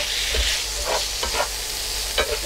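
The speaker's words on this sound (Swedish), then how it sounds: "Kyckling ska stekas på så den får lite yta" Chicken pieces fry in a pan for tacos, giving a steady close sizzle with a few soft scrapes and stirs and no talking.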